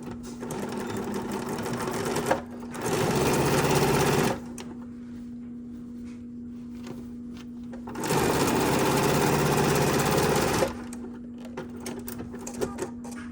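Sewing machine stitching fabric for a Dresden pillow: two bursts of steady, fast mechanical whirring a few seconds each, separated by a quieter idle hum, close and clear with no talking.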